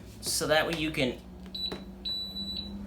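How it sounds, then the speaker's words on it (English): Electric pressure cooker sounding a few steady electronic beeps right after being plugged in, following a stretch of a person speaking close by. "Mine does make a lot of beeping sounds and everything."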